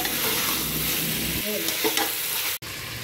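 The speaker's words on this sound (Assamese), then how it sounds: "এতিয়া এইখিনি মই ভালদৰে লৰাই দিছোঁ" Chicken pieces and potatoes stirred in a hot pan during a local chicken and papaya recipe, a steady frying sizzle running throughout with a few scraping strokes and a brief cut near the end, no talking.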